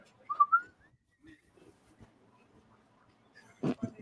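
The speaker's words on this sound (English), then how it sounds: "I heard the whistle, and I'm like, "Oh, yep, Old Spice."" A short rising two-note whistle, the Old Spice commercial jingle, sounds faintly near the start, followed by quiet scattered noises and a brief louder burst near the end.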